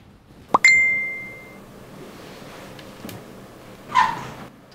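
A short bright ding chimes once, clear and close, like a phone's text notification tone, followed by a brief softer chime a few seconds later in a quiet room.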